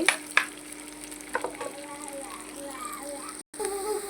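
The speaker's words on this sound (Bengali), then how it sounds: "পেঁয়াজ ভাজা শুরু করে দিয়েছি" Onions sizzling in a pan during home cooking of goat brain and nihari, a steady hiss with occasional crackles and stirring clinks, near and moderate, with faint background voices.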